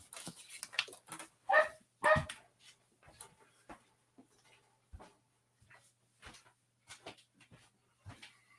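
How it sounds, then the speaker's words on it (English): A small yappy dog barking outside to be let in: a couple of sharp, loud barks followed by scattered softer yips, whimpers and quiet pauses in an otherwise still room. "Barking because you want in."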